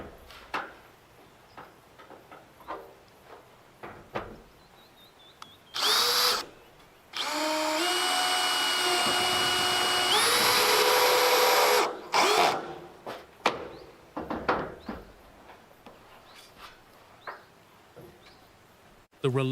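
Power drill boring into steel structural ribs of an off-grid forest kitchen frame, a few short whirring bursts followed by a sustained loud drilling run that steps up in pitch, with scattered knocks and handling clatter around it.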